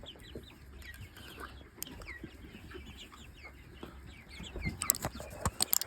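Chicks cluck and chirp steadily in a busy coop of about 90 chicks, with scattered scratching and a few sharper calls near the end.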